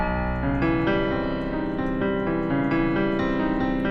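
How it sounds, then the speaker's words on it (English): A dense, clashing piano chord from Into the Woods, with a B in the bass, rings out and is struck again several times, its tones grating against each other without any voices. "Now that's a super weird chord."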